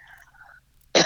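A single short cough bursts out at the end after a quiet pause, close and fairly loud, preceded by faint background voices.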